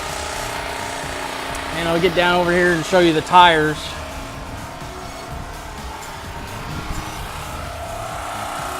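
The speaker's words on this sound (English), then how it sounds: "I do have this hooked up to the gen right now so I can get the lights on" A portable generator runs beside a 2011 Keystone Montana 3580RL fifth-wheel RV, a steady mechanical drone under a man's speech throughout.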